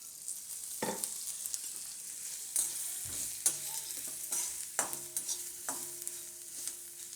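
Green chillies roasting in a spoonful of oil in a pan, a steady soft sizzle broken by several sharp stirring clinks and scrapes, close and moderately loud with no talking.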